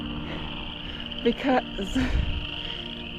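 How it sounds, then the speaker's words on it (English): Steady chorus of frogs calling in the background, with a person speaking briefly over it outdoors. "you can hear all these crickets or frogs."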